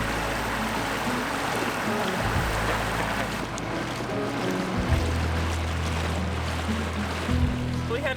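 Small dinghy outboard motor droning steadily across water in an anchorage, with continuous splashing and wash of the hull through the waves, fairly loud and close with the engine pitch shifting a few times.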